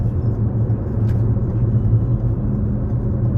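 A car driving along a road, heard from inside as a steady, loud low rumble of engine and tyre noise that holds evenly throughout, with no talking.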